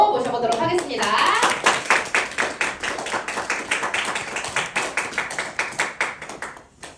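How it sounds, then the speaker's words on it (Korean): An audience claps in welcome for a lecturer at a Pharmanex presentation, starting with a brief voice and then swelling into sustained, dense applause that slowly fades toward the end. "큰 박수로 모셔보도록 하겠습니다"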